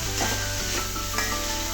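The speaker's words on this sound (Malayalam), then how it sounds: "ഒന്ന് ഇളക്കി നോക്കാം." Long beans thoran for a Kerala-style dish is stirred in a pan, giving a soft continuous sizzle with light rubbing scrapes of the spoon, close and quiet.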